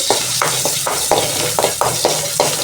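Urad dal lightly roasting in a little sesame oil for a ridged gourd peel chutney: a steady sizzle with regular scraping stirs, about one every third of a second, loud and close.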